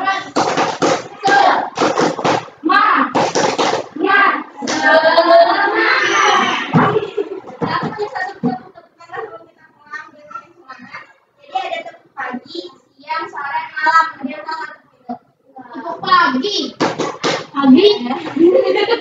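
Children in a classroom clapping along to a chant, sharp bursts of claps alternating with young voices speaking and chanting in between.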